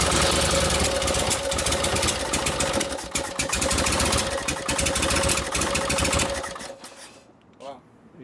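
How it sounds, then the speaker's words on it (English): A 1952 Harley-Davidson Panhead motorcycle engine with a Linkert carburetor runs loud and steady close by with a busy mechanical clatter and a constant tone, then cuts off near the end, leaving a brief quiet tail with a faint voice. "Can't hear over the motor."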